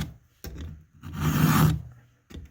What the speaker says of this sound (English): and not filing it off angle